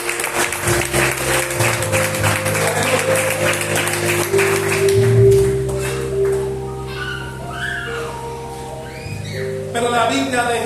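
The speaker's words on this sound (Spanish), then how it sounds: "Dale un aplauso al que vive." A church congregation applauds during a Spanish-language sermon, a brisk burst of clapping over sustained keyboard chords that fades after a few seconds, leaving music and a voice speaking.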